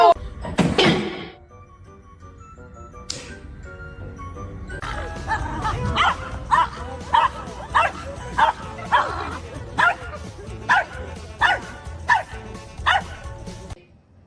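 A dog barks in a steady series of sharp, loud yips, about a dozen evenly spaced barks close by, after an initial burst of voices.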